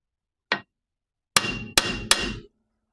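Hammer blows tapping a tight yoke into the tube of a homemade driveshaft for a 1961 Rambler: one light tap, then three loud, ringing strikes in quick succession, close by with no talking.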